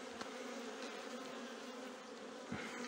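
Honeybees buzz around an opened beehive during a colony inspection, a soft, steady droning hum with faint overlapping wingbeats close by and no talking.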